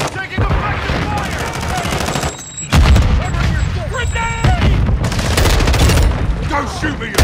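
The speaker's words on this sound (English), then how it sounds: "Taking effective fire!" Rapid automatic fire and heavy booms fill a Call of Duty Modern Warfare 2 multiplayer match, loud and close, with short radio-style voice callouts breaking in between bursts.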